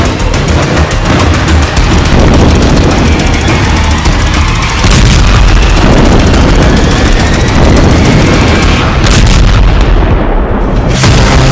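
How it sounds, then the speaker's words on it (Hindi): Israeli bombardment of Beirut at night, a dense, loud barrage of explosions and artillery-like booms rolling continuously without pause, with sharper blasts standing out near the middle and toward the end. "बेरूत में बारूद बरसने लगा।"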